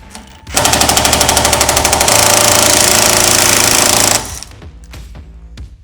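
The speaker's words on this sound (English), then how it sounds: "As I tighten these are actually gonna break off" Impact wrench driving break-off security bolts on a Legend SecuriLock installed on a RAM ProMaster van, a loud rapid hammering rattle for about four seconds, then the bolt snaps and the tool winds down with lighter clatter.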